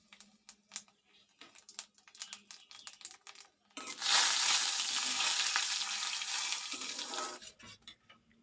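Whole cumin seeds hit hot oil for a vegetarian dal with a sudden loud, steady sizzle lasting a few seconds, preceded by light clicks and taps of utensils and fading as it settles.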